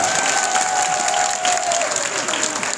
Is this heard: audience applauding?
yes